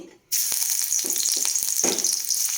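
Crushed garlic drops into hot oil in a pan and sets off a sudden loud sizzle that holds steady, with brief crackles and stirring scrapes on top.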